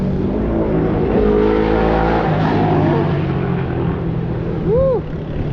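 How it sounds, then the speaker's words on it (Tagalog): Motorcycles racing along the Marilaque mountain road toward Devil's Corner, a loud continuous engine roar with rising and falling revs as bikes pass close by, the drone easing slightly near the end. "Yung naririnig nyo na yan, mga motor, ayan o, nangangarera na."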